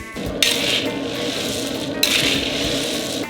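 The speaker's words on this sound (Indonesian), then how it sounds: "Dan kita mengisi kuali dengan kacang mentah berikutnya." Raw peanuts being stirred in a large wok with a metal utensil: two sweeps of rattling, clinking nuts against the pan, loud and close, with no voices.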